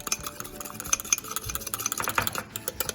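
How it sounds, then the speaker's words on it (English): A spoon stirs flour into warm pot roast juices to make gravy, with soft scraping and light clinks against the slow cooker pot in quick, uneven strokes. "you're just gonna mix it until the flour and everything is all well combined"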